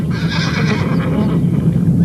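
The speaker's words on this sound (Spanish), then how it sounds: "encontramos en Mongolia al caballo de Przewalski" A Przewalski's horse (takhi) from the Mongolian steppe whinnies loudly and steadily over the whole stretch, close to the listener, with no voices.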